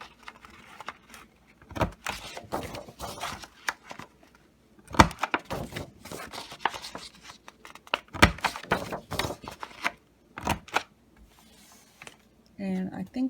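Paper punched on a punch board for a diorama craft project: a series of sharp clicks and thunks, close by and in short clusters, with a person talking between them.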